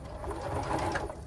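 A Juki HZL sewing machine runs a short burst of stitching after a main gear replacement, a quiet, even mechanical whir and rapid ticking from close by.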